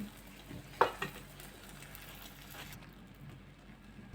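An egg frying in a pan makes a faint, steady sizzle, broken by a couple of small clicks near the start. No voices.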